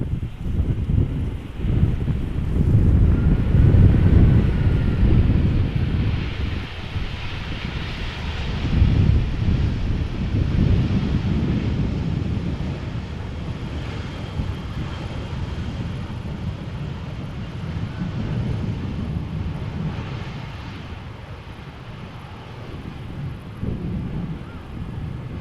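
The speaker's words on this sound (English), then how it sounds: "And this would be Top Air Portugal A319 arriving from Lisbon, flight 674. And that is a tiptoey landing." An Airbus A319 lands in a crosswind at Amsterdam Schiphol. A deep, distant jet rumble swells and fades under heavy wind buffeting on the microphone, and no voices are heard.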